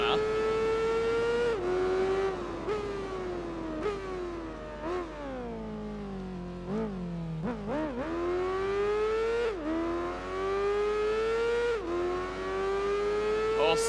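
An Aprilia racing motorcycle engine in the video game Tourist Trophy screams at high revs, dipping and climbing with each gear shift and braking, loud and continuous throughout.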